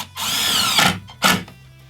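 A power drill drives 2-inch deck screws into wooden window trim inside a bus conversion, with one long whirring run followed by a short second burst, loud and close with no talk.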